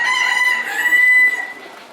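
A Rose-combed Rhode Island Red bantam rooster crows once, loud and close, in a strained, harmonic-rich call that holds steady and then tapers off.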